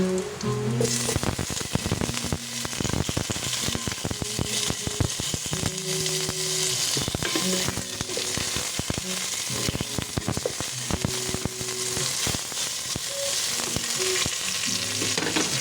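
Chicken feet dropped into a hot pan for sinampalukang manok sizzle and fry loudly, with steady crackling and bursts of stirring and scraping close up throughout.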